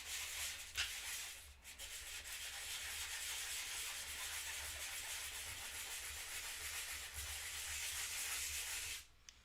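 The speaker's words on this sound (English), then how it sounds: "So I apologize if it's like super loud from the sanding" Steady, loud abrasive sanding rasps on continuously for several seconds, a rough hiss with brief pauses near the start and end.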